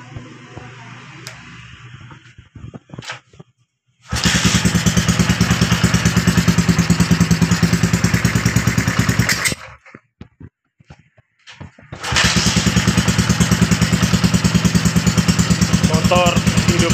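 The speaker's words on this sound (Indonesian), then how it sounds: "coba kita uji kembali untuk menghidupkan ini motor" A Honda CB100 motorcycle fitted with a new CDI unit is started twice. Each time the engine catches and runs with a loud, steady, rapid putter close by, and there is a short quiet gap with some clatter between the runs.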